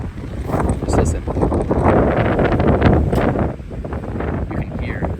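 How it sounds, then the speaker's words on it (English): Strong wind gusts on the Spruce Knob summit in West Virginia buffet the microphone with a loud, rumbling roar that rises and falls over a few seconds. "The wind is whipping up here."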